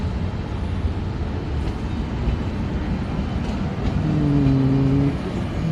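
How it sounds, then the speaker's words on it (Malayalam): SMBT superfast express train running at a level crossing, a loud continuous rumble and roar close by, with a brief tonal squeal or horn-like drone near the end, no talk. "SMBT Trivandrum north SMBT super fast."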